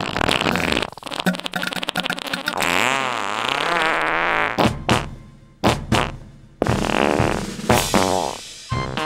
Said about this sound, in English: 2 CDs of farts, barfs, and belches